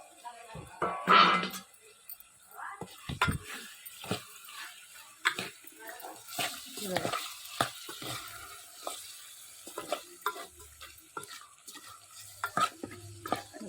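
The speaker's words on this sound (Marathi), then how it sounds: "मस्त परतलं गेलेलं आहे चिकन बघा मस्त पाणी पण सुटलेलं आहे चिकनला" Chicken is sautéed in a pot on a wood-fired clay stove in a village kitchen. A spoon stirs and scrapes the pot in irregular bursts over a soft sizzle, close and fairly quiet, with brief speech in between.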